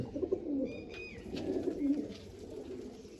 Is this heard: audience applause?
no